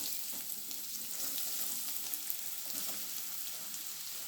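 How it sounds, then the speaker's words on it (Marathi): Onion sautés in a little oil in a kadhai for a Malvani prawn curry, producing a soft, steady, even sizzle with faint crackles, fairly quiet and without voices. "थोडंसं तेल घेते मी आणि कांदा त्याच्यामध्ये परतून घेते"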